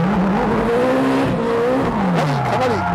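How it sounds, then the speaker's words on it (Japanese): A Nissan S15 fitted with an LS3 V8 drifts, its engine roaring loud and close as the revs swing up and down, with tire squeal rising over the steady engine drone toward the end. "じゃあ早速ドリフトしてみましょう。"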